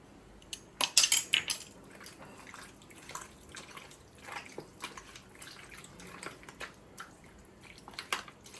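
Prawns being mixed by hand in a sweet-sour marinade in a metal bowl, giving soft, wet squelches and scattered light clinks of a spoon or bowl, quiet and close, with no one speaking.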